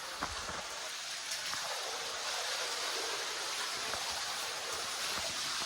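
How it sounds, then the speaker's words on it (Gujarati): Rainwater flows past the Taran Dharan temple in a steady, rushing stream that fills the scene evenly and sounds fairly close, with no voices over it. "તો આ જુઓ પાણી આવે છે"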